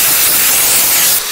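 Pressurized foam spray from an iK Foam Pro 12 pump sprayer, a loud steady airy hiss filling the whole clip up close, easing slightly near the end, with no talk over it.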